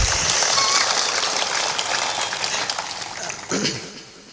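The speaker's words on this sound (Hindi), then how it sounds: "जोर से ताली बजाओ" Audience at a Hindi spiritual discourse clapping loudly in a dense, sustained burst that thins slightly toward the end, with a brief swell near the close.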